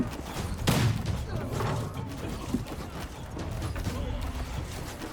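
In the video game Conqueror's Blade, a grapeshot cannon is set up and fired. Mechanical clanks and ratcheting lead into one loud, close blast, followed by busy battle noise and faint speech in the background.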